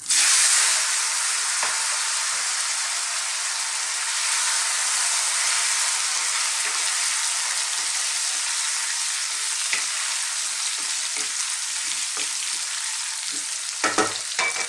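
Parboiled potatoes frying over high heat in a pan with fennel seeds for a potato chickpea curry: a loud, steady, close sizzle that holds throughout, with a few light stirring clicks near the end.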